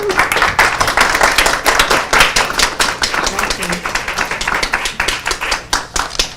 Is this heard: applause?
yes